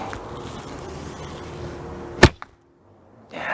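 An arrow loosed from a Manchu yarha bow, an Asiatic archery bow, strikes a bale with a single sharp, loud impact and a brief follow-up knock, then near silence before a rustle of movement.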